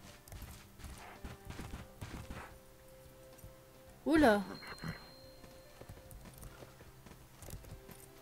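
Horse hooves clip-clop in the video game Bella Sara, a steady walking rhythm running under a woman's chatter, with a brief louder burst partway through.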